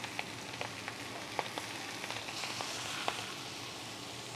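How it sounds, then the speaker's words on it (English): Fresh salmon sizzles on a hot griddle top, a steady crackling hiss dotted with small popping spits, moderately close and unbroken by any talk. "let's put that on the griddle top and let it crisp up"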